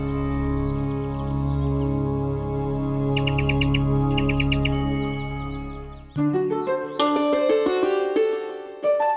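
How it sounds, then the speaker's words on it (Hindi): Birds chirp in a lively burst within a children's animated Hindi story, first as quick repeated tweets over a sustained musical drone, then giving way to bright tinkling chime-like notes, fairly loud and close with no talking. "मैं तो इन पंछियों से बात कर रही थी।"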